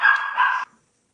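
A small female dog gives a quick pair of sharp, high, fairly loud barks close by, then falls silent.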